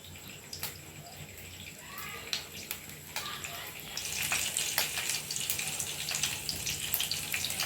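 Cumin seeds sizzle in hot oil on a nonstick tawa over a gas flame, a steady crackling hiss with scattered pops that grows denser and louder partway through, close to the listener.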